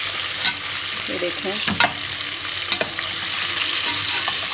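Chicken sizzles in a very hot pot and is stirred with scraping spoon sounds, a steady, loud frying hiss throughout, while a voice says a few words.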